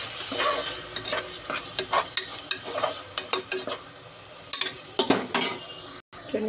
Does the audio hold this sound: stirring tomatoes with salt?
yes